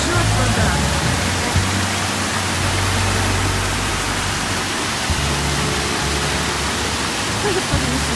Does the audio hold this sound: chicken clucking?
no